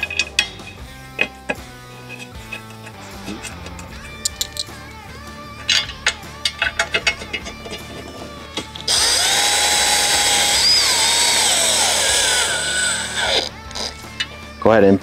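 Power tool driving screws back into the OEM light fairing of a Harley-Davidson Fat Bob FXFB; scattered clicks and taps first, then a loud sustained whirring run of the driver, close by, ending with short bursts.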